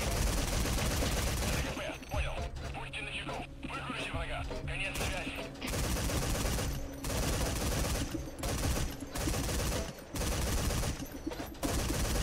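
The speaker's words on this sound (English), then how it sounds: "You just heard gunfire, you think?" Rapid bursts of gunfire in Metal Gear Solid 5: The Phantom Pain, dense and continuous with brief gaps, loud and close, mixed with occasional speech.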